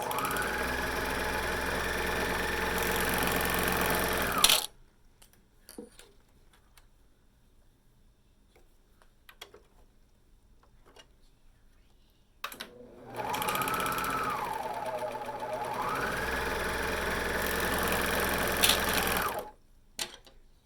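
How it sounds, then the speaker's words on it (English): A sewing machine stitches the shoulder seams of a tee in two long steady runs with a quiet pause between them, its motor humming evenly and rising and falling slightly in speed. "I'm going to sew those together with a 1/2 inch seam allowance."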